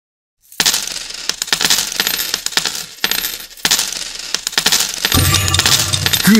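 Coins clattering and jingling inside an online coin pusher arcade machine, a dense run of metallic clinks and drops that keeps going for several seconds, loud and close with no speech.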